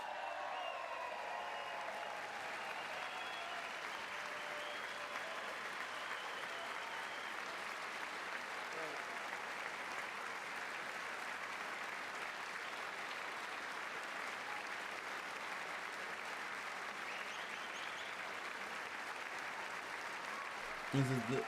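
Sustained applause from a large crowd in a legislative chamber at the State of the Union address, a dense and even roar of clapping lasting about twenty seconds at moderate distance.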